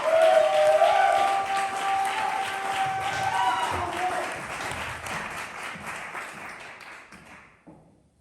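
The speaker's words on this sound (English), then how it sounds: "Keep that applause going for your next poet in this final round" Applause and cheering from an audience at the ATL Spring Fling 2023 poetry slam, strongest at first with whoops and voices, then thinning out and stopping near the end.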